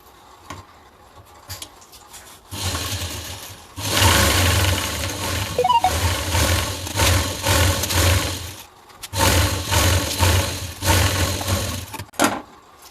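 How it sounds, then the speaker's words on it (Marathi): A sewing machine stitching folded piping along a blouse neckline, running in several loud bursts of motor whir separated by short pauses. "आता असा फोल्ड करून घ्यायचा आहे असं आणि या कडेने टिप मारायची"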